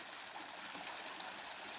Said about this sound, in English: So you got water up there pouring down that way.